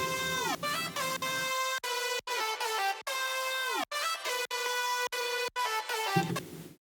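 Layered synthesizer patch with reverb plays bright, horn-like stacked chords in short stabs with pitch dips and gaps between hits, ending on a lingering reverb tail, with no talking.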